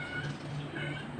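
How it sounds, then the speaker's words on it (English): A pet cat gives a short drawn-out meow, close by and fairly loud over a low background hum. "Excuse my cats."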